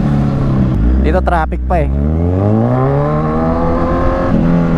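Kawasaki Z1000 motorcycle with a quick shifter accelerating through traffic, engine note climbing and dropping with rapid gear changes around 6,000 RPM, loud and close under wind noise while someone talks over it.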